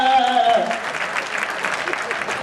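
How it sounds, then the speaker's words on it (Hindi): A conference audience breaks into loud clapping right after a spoken line, the applause carrying on steadily and filling the room. "जोर से तालियां होनी चाहिए।"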